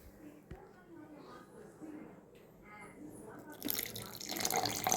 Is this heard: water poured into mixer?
yes